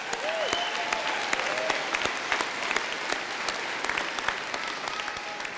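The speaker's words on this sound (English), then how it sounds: "Please give those athletes a big round of applause" Applause at a 2014 college graduation ceremony honoring athletes, a steady wash of many hands clapping in a large hall, with occasional faint whistles and cheers above it.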